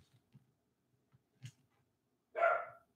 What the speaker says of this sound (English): You can probably hear my dogs barking in the background.